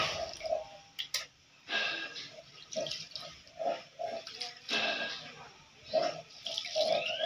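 500 grams of biryani rice is rinsed in water in a home kitchen, with repeated sloshing, swishing and dripping bursts, fairly close and uneven in rhythm.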